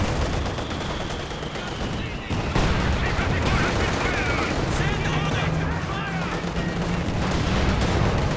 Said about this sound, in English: Using the creeping barrage again.